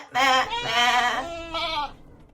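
A farm goat bleats loudly and up close in three wavering calls, the middle one longest, with no other sound around them.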